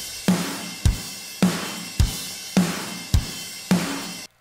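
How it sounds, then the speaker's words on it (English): Metal drums from the Modern Metal EZX library in Superior Drummer 3 play a slow, even pattern of seven heavy hits, each a punchy kick with crashing cymbal wash that rings out between strikes, alone and with no voices. "For our drums, we are using the Modern Metal Easy X."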